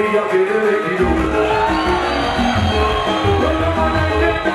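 Loud live crowd at a Tanzanian MC performance cheering, whooping and shouting continuously, a dense wall of audience noise with a steady low thump underneath.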